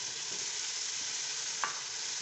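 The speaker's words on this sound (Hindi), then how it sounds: "तो फिर इसमें हम शामिल करेंगे ये लहसुन अदरक। इसको भूनेंगे। इसमें ये टमाटर डालेंगे हम।" Garlic, ginger and tomatoes frying with meat for bhuna gosht, giving an even, low hiss of sizzling oil with a single brief clink partway through.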